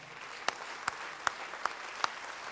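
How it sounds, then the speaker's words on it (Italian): Audience applause for the four winners of the 40th student-athlete award at a Panathlon Day ceremony in Venice. It sounds as a steady, fairly faint wash of clapping with a few sharper individual claps standing out at regular intervals. "Ancora un applauso."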